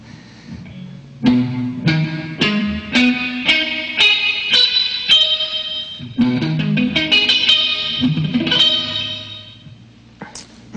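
Distorted electric guitar picking out minor triad arpeggios in repeated ascending runs, bright and saturated with reverb, loud and close with no voices.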